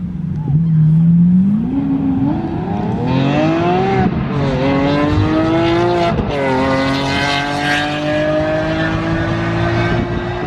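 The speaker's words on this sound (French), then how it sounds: "il y a cette SVJ là, mais elle fait un bruit de fou furieux" A Lamborghini Aventador SVJ hypercar at an airfield revs up and accelerates hard, its engine note climbing through several gear changes, loud and close with a bit of background voice.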